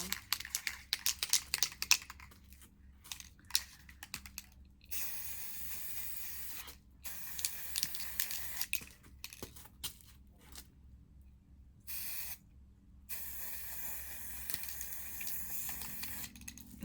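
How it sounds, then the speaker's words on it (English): Repeated bursts of white spray paint hissing from an aerosol can, several short blasts separated by brief pauses, fairly close, with faint rattling between them. "try with the white spray paint"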